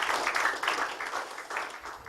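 Audience applause at an indoor K-Link business opportunity seminar, a steady wash of many hands clapping at moderate distance, fairly faint and even throughout with no voices on top.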